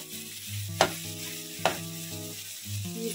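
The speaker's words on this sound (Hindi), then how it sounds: "इसको मैं 2 मिनट के लिए और भूनूंगी।" Grated carrot halwa is stirred and roasted in ghee in a pan, a steady sizzle broken by two sharp scrapes of the spoon, up close with no talking.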